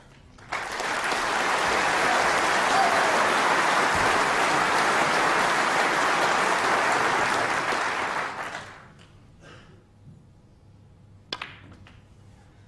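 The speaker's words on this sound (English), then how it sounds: "Wait for the applause for the century." The Crucible crowd breaks into sustained, loud applause for a snooker century break, a dense wash of clapping that holds steady for several seconds before fading out, followed by a few faint isolated sounds.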